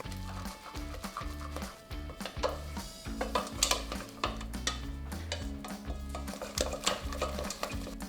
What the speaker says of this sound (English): I'm now going to take that off the heat and stir it in really quickly until it forms a ball